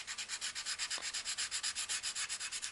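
Coloured pencil scratching back and forth over paper while colouring a lizard drawing, a steady rhythm of quick rubbing strokes, close and fairly loud, with no talking.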